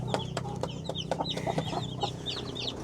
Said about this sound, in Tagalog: tumatawag na siya. So, Ayan, lumalapit na po yung iba